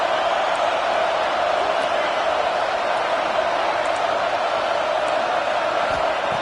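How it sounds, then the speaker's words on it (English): A packed football stadium roars as a dense, sustained wall of crowd noise, loud and unbroken, with no single voices standing out. "listen to this crowd noise. This stadium is vibrating"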